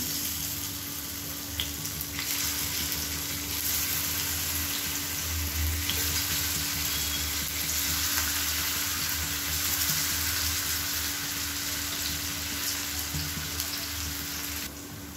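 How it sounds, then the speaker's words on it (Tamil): Raw banana slices fry in hot oil in a wide kadai, a dense, even sizzle that runs unbroken and fairly loud from start to finish with no talking. "ஒவ்வொரு வாழைக்காயும் நம்ம எண்ணெயில் சேர்த்துடலாம்."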